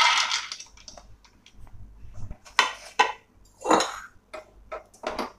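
Peanuts roasting in a pan with intermittent scraping and rattling clicks of nuts and utensil against metal, irregular bursts, fairly close, no talk.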